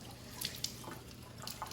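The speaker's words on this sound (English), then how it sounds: "The kids are rinsing strawberries." Strawberries rinsed under running water in a kitchen sink, a faint continuous wash of water with small drips and splashes.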